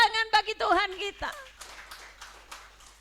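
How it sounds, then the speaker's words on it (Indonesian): A church congregation claps for God during a Sunday worship service: a voice is heard first, then scattered, sparse hand claps ring out, fading in the room. "Beri tepuk tangan bagi Tuhan kita."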